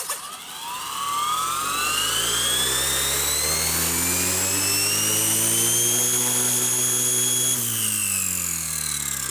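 An M03 remote-controlled toy aircraft's motor whines at close range; its pitch climbs steadily and holds high for several seconds, then dips slightly near the end, with no talking.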